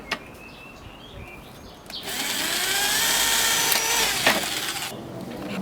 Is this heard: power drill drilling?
yes